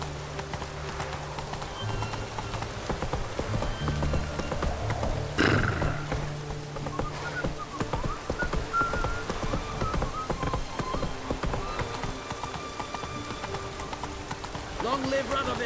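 Hooves of the horse Roach trotting in The Witcher 3 on PS4, a steady clip-clop rhythm running throughout, moderately close, mixed with ambient game sounds and a brief louder thump partway through.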